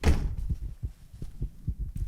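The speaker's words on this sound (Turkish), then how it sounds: "O kapıyı ben mi kapattım oradan?" A door in the horror game From The Darkness thuds shut, one heavier thump followed by a string of soft, evenly spaced low knocks.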